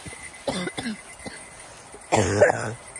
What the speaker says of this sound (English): My cough is getting better.